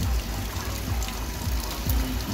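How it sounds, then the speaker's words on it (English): Steady running natural water washing over hands outdoors in Portland, Jamaica, a continuous close splashing trickle at moderate level with no talking. "I wash my hands"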